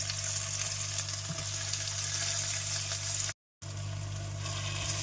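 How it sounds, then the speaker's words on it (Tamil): Tomatoes sauté in oil with a dense, steady sizzle heard up close, broken by a brief moment of silence near the end. "இப்போ தக்காளி நல்லா வதங்கி எண்ணெய் பிரிஞ்சு வந்துடுச்சு."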